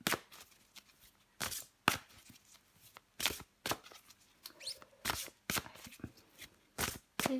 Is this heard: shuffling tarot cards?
yes